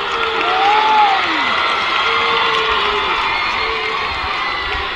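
Crowd at an Indian national rugby 15s match shrieks and cheers as a player gets back to his feet, a steady, loud roar of many voices with high excited whoops rising above it throughout.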